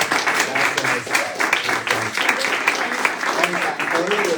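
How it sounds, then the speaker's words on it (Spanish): An audience at a novel presentation claps in a sustained, fairly loud round of applause, with talk and murmuring mixed in underneath. "Otro aplauso. Por favor."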